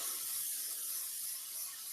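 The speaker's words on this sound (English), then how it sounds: "what I got is olive oil spray. Spray it down a little bit." Olive oil spray hisses from a can onto an oven sheet in one continuous, soft, airy burst lasting a couple of seconds.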